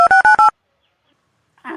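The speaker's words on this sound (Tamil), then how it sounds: "இருங்க தானே இப்பவே ஃபோன் பண்ணி கேட்கறேன்." A telephone number is dialed: four quick touch-tone beeps in a row, loud and close, then silence and a short burst of noise at the end.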